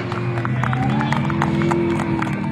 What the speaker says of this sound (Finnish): Raikoimmat aplodit tähän mennessä.